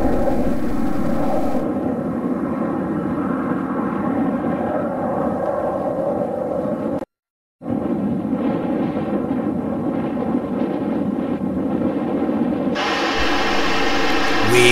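A Fouga 170 jet aircraft climbing after takeoff, a loud steady jet roar heard from inside the aircraft, with one brief cut to silence midway.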